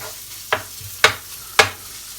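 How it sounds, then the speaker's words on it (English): Bacon sizzles in a frying pan for a bacon and mushroom omelette, with a soft steady crackle broken by three sharp, loud hissing spurts spaced about half a second apart as it is stirred. "So I'm going to chuck in the bacon. Start browning that off."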